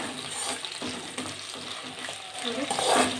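Vegetables stir-frying in a pan for restaurant-style fried rice, with a steady close sizzle, spatula scrapes and stirring knocks, and a brief louder hiss near the end.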